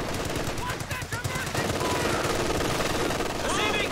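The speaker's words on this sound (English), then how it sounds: "Heavy MG!" Company of Heroes 2 heavy machine gun rattles in repeated rapid bursts amid a busy battle mix of other gunfire and effects, with game voice callouts mixed in.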